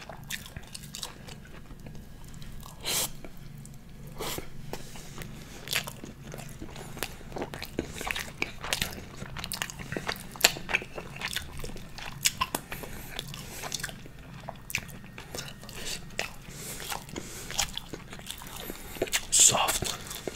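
Baked cod being eaten close to the mic, with repeated soft bites and wet chewing over a steady low hum throughout, plus a few crisper clicks and faint breathy noises.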